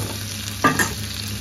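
Homemade masala in a pan for baby corn tandoori with egg, stirred over a constant background sizzle, with two quick scraping strokes in the middle, close up and without voices.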